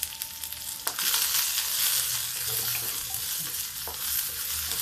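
Sliced onion frying with okra (bhindi) and potato in a pan, a loud, steady sizzle broken by sharp spatula knocks as the mix is stirred.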